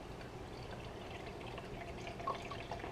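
Water trickling and dripping inside an Aerogarden Bounty Classic hydroponic garden as it runs with clean water, a faint, steady low flow with small drips near the end.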